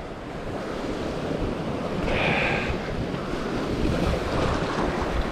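Wind blows hard at the seashore during a sea bass fishing session, with surf washing in. The gusty roar buffets the microphone, loud and constant, and no one speaks.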